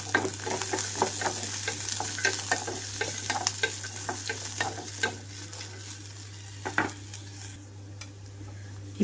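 Lentils and ginger dry-roasted in a pan for Karnataka-style chutney, stirred in quick repeated scraping strokes with light rattling and clinks of the utensil against the pan, close and continuous, with no voices.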